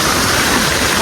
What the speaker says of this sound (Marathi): बघू शकता धबधबा आहे.